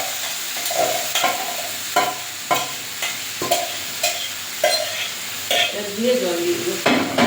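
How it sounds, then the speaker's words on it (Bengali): Spiced marinated chicken dropped onto fried potatoes in a village kitchen pan, loud sizzling frying with repeated sharp scrapes of a stirring spoon every half second or so, close and alone. "মেখে রাখা মাংসটা দিয়ে দিই"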